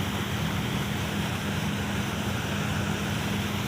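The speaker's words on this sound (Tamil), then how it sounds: "நம்மளோட ரெண்டு சின்ன போட்டுகளையும் கெட்டி இழுத்துட்டு தான் போகிறோம்" A motorboat out at sea towing two small boats, heard as a steady, unbroken engine drone mixed with broad wind and water rush that stays constant throughout and is fairly loud.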